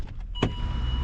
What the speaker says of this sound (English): So this car, when you turn it on, the AC compressor's making noise?